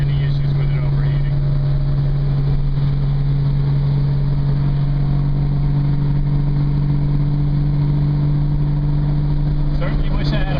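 A 1968 Triumph Spitfire cruises at 60 mph around 2,800 rpm, its engine a steady, loud droning hum with constant road and wind noise from inside the car.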